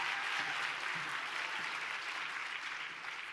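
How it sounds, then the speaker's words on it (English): An awards ceremony audience applauds steadily, a dense even wash of clapping that fades slightly toward the end, with no talk over it. "Give her a round of applause."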